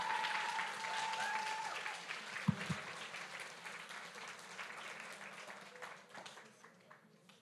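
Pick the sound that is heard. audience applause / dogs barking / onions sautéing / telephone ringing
audience applause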